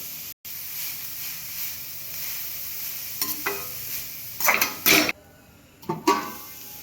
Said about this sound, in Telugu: క్యాబేజ్ వేసుకోవాలి. క్యారెట్ వేసుకోవాలి. పసుపు ఒక 2 మినిట్స్ సిమ్లో పెడదాం